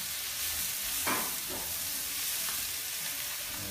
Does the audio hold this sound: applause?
no